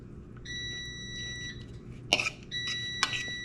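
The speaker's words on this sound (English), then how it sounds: "there goes the air fryer" An air fryer in a home kitchen sounds a few clear electronic beeps, steady tones in short runs, over a low background hum with some clattering noise nearby.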